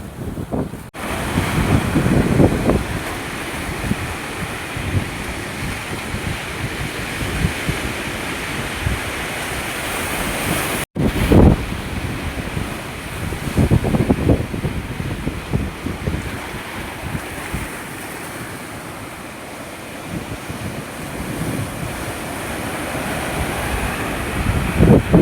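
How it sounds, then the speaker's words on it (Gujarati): Steady wash of sea waves and gusting wind at a seashore, with strong wind rumble buffeting the microphone throughout; no voices. "અહીં છે દરિયા કિનારે છે ને ટાટો ટાટો પવન આવે તો હોય."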